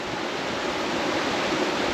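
The muddy, wide West Fork Gila River in the Gila Wilderness of New Mexico rushes steadily, a dense, even roar of flowing water that stays close and constant throughout with no voices.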